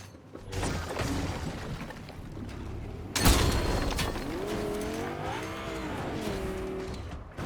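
A car in a video game rolls along with a mechanical rattle, then its engine drone rises and falls in pitch as it speeds up and eases off, loud and close.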